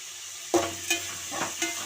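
Onions and tomatoes with a little salt sauté in oil for Tirunelveli sambar, with a few quick stirring scrapes over a soft, low sizzle in a brief moment.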